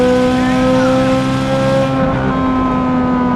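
A Corvette C7 Z06 with a 5.5-liter flat-plane-crank naturally aspirated V8 drones steadily at high revs, loud and close, its harmonic engine note holding for a few seconds before easing slightly.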